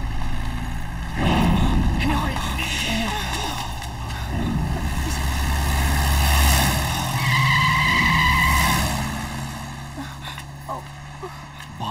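A car skids past at night, a loud, sustained roar and screech that rises and falls over several seconds, with voices talking under and around it.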